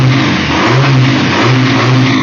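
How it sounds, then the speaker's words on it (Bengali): A Pilder V3 motorcycle engine revs up close and loud, its throttle blipped about three times in a row over a steady idle drone. "প্রথমে একটু হট বাইকের সাউন্ড গুলো একটু আচ্ছা। শুনিয়ে দিই।"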